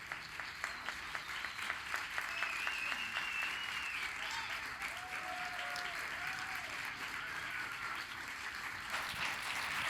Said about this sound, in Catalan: un fort aplaudiment, un fort aplaudiment